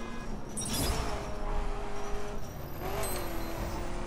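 Car in The Crew racing hard through the middle of city streets, a steady engine drone with shifting pitch rising and falling across the stretch, brief bursts of tire noise and traffic hiss over it.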